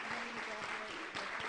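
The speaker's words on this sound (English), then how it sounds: "Give our speakers a round of applause." Brief burst of audience applause at a human trafficking awareness symposium, honouring the speakers; the steady broadband clapping has faint voices mixed in and stays fairly even over a second and a half.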